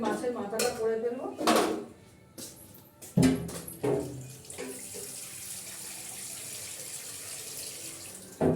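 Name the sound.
water poured into a cooking pot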